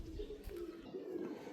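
A male pigeon held in the hand, cooing in soft low rhythmic murmurs, close and faint, continuing steadily without pause.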